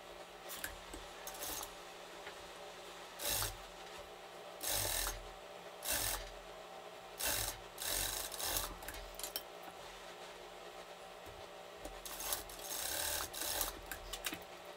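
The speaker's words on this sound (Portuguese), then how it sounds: "rebater uma costura lá na máquina reta" Straight-stitch sewing machine hemming fabric, running in several short bursts of rapid stitching separated by quiet pauses, fairly close and moderately loud with no talking.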